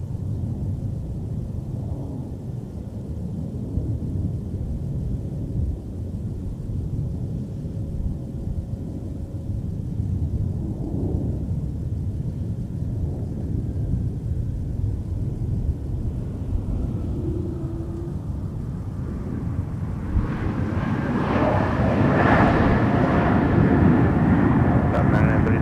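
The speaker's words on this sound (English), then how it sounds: "Here's an Airbus A220." Distant, steady rumble of an Airbus A220 airliner at Minneapolis-St. Paul International Airport, swelling louder toward the end, with faint radio chatter in the background.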